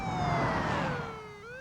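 An ambulance siren sounds in a radio advertisement for an ambulance service, a wailing tone that sweeps slowly downward with a passing vehicle rumble.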